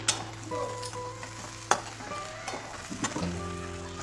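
Ground cumin and coriander sautéing in a pan for an aloo matar curry, with a spoon scraping and stirring through the sizzle; a few sharp clinks and knocks of utensil against pan stand out over a steady, close frying hiss.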